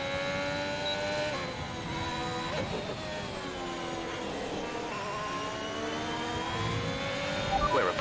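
A simulated F1 race car in a video game, leaving the pits at Suzuka, whines at high pitch with engine notes rising and falling through gear changes, steady and close for the whole stretch.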